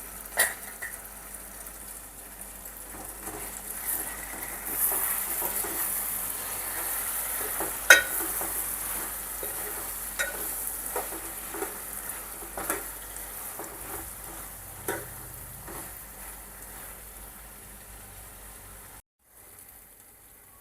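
Tomato chutney with tamarind stewing in a covered pan gives a steady, soft, close hiss and gentle bubbling for a long stretch, dotted with occasional utensil clicks, and no one speaks.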